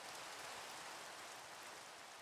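Steady rain falls in the Minecraft video game, a continuous even hiss of drops with no voices over it.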